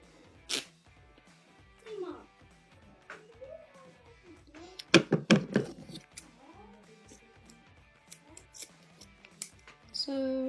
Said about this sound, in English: So just gonna keep on snipping.